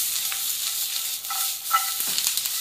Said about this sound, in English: I'm now going to add in the asparagus and let that fry off for a couple of minutes.